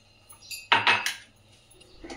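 A metal kadai is set down on a kitchen stove with a brief clattering clank and a short metallic rattle, fairly close, no voices.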